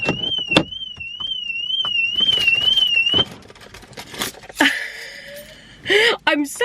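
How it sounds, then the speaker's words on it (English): A warbling electronic car alarm, heard from inside the car, wails steadily, then cuts off; afterward come clunks and a person talking excitedly nearby. "I'm sat in my car and the alarm is going off."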